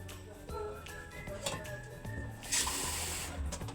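Water poured from a tap into a pot of home-cooked prawn curry, a steady faint running and splashing hiss that swells louder toward the end.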